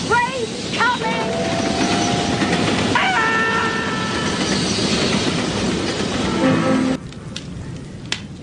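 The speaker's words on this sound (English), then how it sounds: "Listen, there's another train coming." Radio-drama sound effect of a passing train, loud rumbling wheels and rhythmic clatter with squealing tones, with voices over it; the roar drops off abruptly near the end, leaving fainter clanks.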